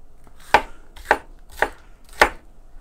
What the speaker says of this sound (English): I'm going to go ahead and just roughly chop up this pepper.